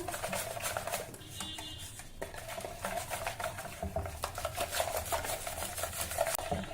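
Crushed green chillies and ginger are mixed with salt in a small vessel, a steady close rubbing and scraping with light metallic clinks throughout.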